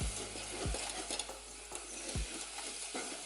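A spoon stirs flour into a sizzling soup base in a pot, with soft scraping strokes and a few sharp clinks against the pot over steady frying hiss.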